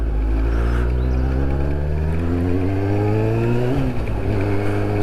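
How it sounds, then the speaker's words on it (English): A Kawasaki ZX6-R sport motorcycle engine runs loud and close, its pitch climbing steadily as it revs up, briefly dropping, then rising again in a continuous whining drone. "It's got an excellent engine noise, this bike."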